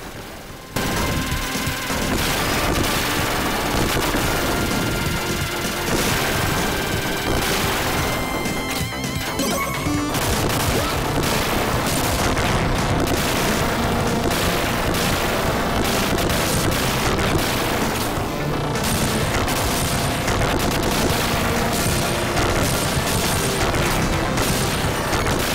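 Gunstar Heroes, a fast run-and-gun Sega Mega Drive game, firing nonstop with rapid machine-gun rattle, crashes and explosions layered over a dense, loud game soundtrack.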